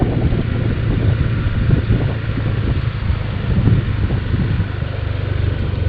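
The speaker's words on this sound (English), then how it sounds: "I hear a lot of people that would like to hear the engine noise" A scooter engine drones steadily while riding, its low hum partly buried under constant rushing wind noise on the microphone, with no talking.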